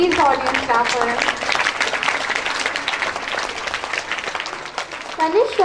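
An audience at a school investiture ceremony breaks into steady applause, with a speaking voice over the clapping at the start and end.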